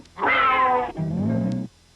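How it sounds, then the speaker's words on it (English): A cartoon cat lets out a loud, strained yowl after its tail is stepped on, a two-part wail that starts high and drops lower, heard alone and close. "Maybe if I stepped on your cat's tail."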